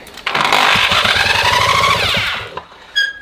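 A small motor-pump engine with a magnetic flywheel is cranked by an electric drill and catches, giving a loud rough buzzing roar with fast pulsing firing beats that lasts about two seconds, then cuts off, followed by brief clicks.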